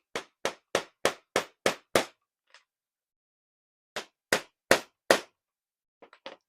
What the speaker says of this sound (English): we have to hammer these little pins in for this particular flipper